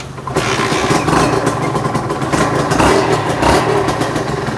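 A Honda NSR motorcycle engine starts and runs nearby, a loud, rough, pulsing idle with occasional slight revs.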